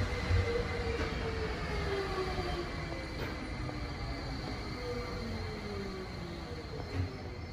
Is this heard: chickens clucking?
no